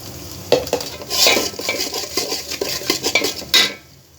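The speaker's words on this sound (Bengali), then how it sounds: "যে পোলাওর মধ্যে পেস্টটা এখন দিয়ে দিতেছি। পেস্টটা ভালো করে ভেজে নেব।" A spatula stirs spice paste for pulao in a pan, with steady scraping and clinking of metal utensils and a faint sizzle underneath, close and continuous over a few seconds.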